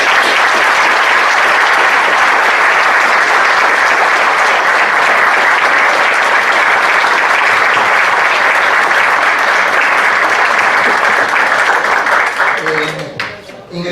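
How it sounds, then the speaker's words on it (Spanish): Sustained applause from a seated audience at a legal conference on workers' compensation law in Buenos Aires, with dense, steady clapping for about thirteen seconds before it thins and fades out. "les pido humildemente un breve aplauso para el doctor"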